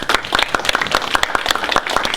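A lecture audience gives a short burst of lively applause, many hands clapping densely and evenly throughout, fairly loud and close.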